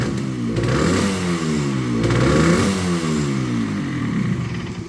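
An old classic motorcycle engine, offered for sale, runs loud and close, rising and falling through several revving sweeps over a steady, clattering idle with no voices.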